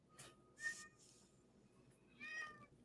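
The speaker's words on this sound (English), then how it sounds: "God damn, fucking cats." Cats meowing, a few short high cries scattered across a quiet, faint background, each brief and somewhat distant.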